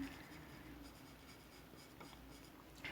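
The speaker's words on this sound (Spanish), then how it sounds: "voy moviendo el lápiz, trato de mover el lápiz en diferentes direcciones, no en una única dirección" Pencil shading on paper while drawing a realistic eye: a soft, faint scratching and rubbing of graphite strokes, quiet and close, continuing in short back-and-forth passes.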